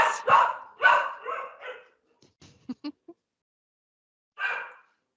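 A dog barks and yips indoors in a quick cluster of close, loud bursts, then a few softer short sounds, a pause, and one last bark.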